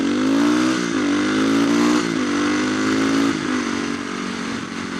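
Motorcycle being ridden, its engine droning loudly up close with rising and falling revs as it changes speed.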